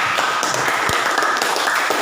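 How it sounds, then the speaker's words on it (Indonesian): A classroom applauding a student, a scattered patter of claps from a group of pupils running steadily throughout at moderate loudness, with a single sharper thump near the middle. "Tepuk tangan untuk Marvel"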